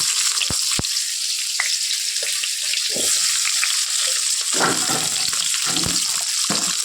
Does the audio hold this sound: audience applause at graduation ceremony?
no